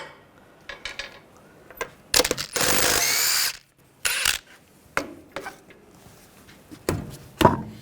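A power tool removes the wheel lock on a 2011-2017 Nissan Juke front wheel, giving one loud, sustained whir amid scattered sharp metallic clanks and taps of socket and lock, close by.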